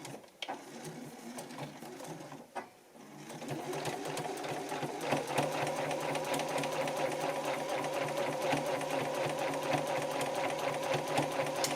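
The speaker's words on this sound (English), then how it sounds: "I'm just sewing a nice fat 1/4 of an inch, and I mean it's nice and fat, seam here and back tacking" Sewing machine stitching a quarter-inch seam on a fabric basket, starting with a few short bursts and then running steadily at speed, a loud close mechanical whir with a rapid rhythmic chatter.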